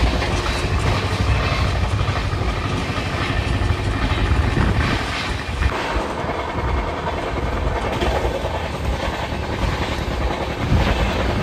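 Shantiniketan Express 12337 speeding through Hajigarh station without stopping: a loud, steady rumble and rattle of wheels and carriages runs the whole way, with no talking.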